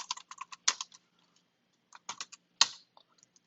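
Typing on a computer keyboard: quiet, close bursts of key clicks in irregular clusters, with a couple of louder thumps like the enter key and short pauses between runs.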